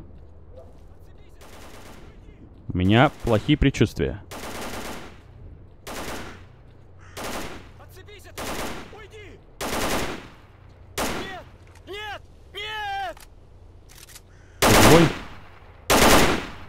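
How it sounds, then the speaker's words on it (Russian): Gunfire in the video game STALKER: Call of Pripyat comes as a string of sharp shots and short bursts over about a dozen seconds, some loud and close, with someone speaking briefly between them. "Так, слышу звуки выстрелов."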